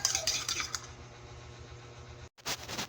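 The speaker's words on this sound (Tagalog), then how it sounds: "lagyan natin ng paminta mga Meses. At ating halu-haluin laang" A spoon stirs vegetables seasoned with pepper in a pan, a few quick metallic scrapes and clinks at the start, then a low sizzling hum and another short burst of stirring near the end.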